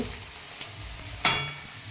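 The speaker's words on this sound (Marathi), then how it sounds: "छान परतून घ्यायचा कांदा मस्त कांदा परतून झाला थोडीशी हळद टाकायची छान परतून घ्यायची" Onion with turmeric sautéing in a pan, a soft low sizzle with a small tap, then a sharper burst of hiss and clink as it is stirred, fading afterward.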